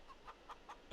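Chickens in Farming Simulator 22 give several short, soft clucks spaced evenly across a quiet moment, followed by a louder, fuller bird call at the very end.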